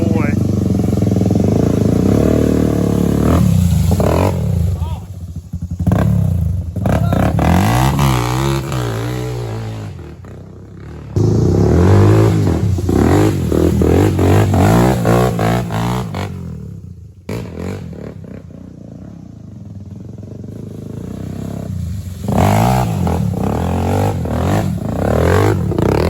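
A muddy Honda 400EX ATV engine cranks and revs loudly and close by, its throttle rising and falling in repeated surges with brief drops between. Voices talk over it.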